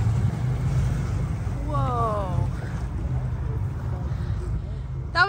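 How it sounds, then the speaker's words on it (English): A sailboat's engine running hard in full reverse while approaching an anchorage, heard as a steady low rumble that persists throughout, with wind and water noise and a brief tonal whine partway through. "Okay, just heard James go into full reverse."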